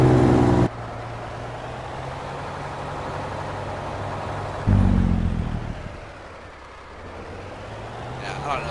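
A truck engine in Farming Simulator 19 drops in pitch and falls off in level as the gas is let off, a steady low drone running on under a voice.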